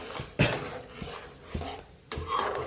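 Milk with sugar being stirred in a pot for basundi, a spoon scraping and knocking against the pot in a few close, irregular strokes, with no talking.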